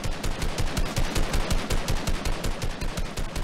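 Rapid automatic assault rifle fire in the video game Fortnite, a steady close burst of evenly spaced shots rattling without pause.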